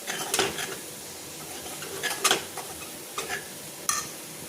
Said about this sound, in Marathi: त्याच्या गाठी गुठ्या होऊ नये म्हणून मी चमच्याने असं हलवते.